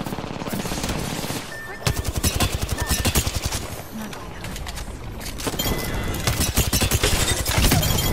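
Rapid bursts of automatic gunfire in Apex Legends rattle in dense volleys, pausing briefly and then resuming heavier toward the end, with game effects layered beneath.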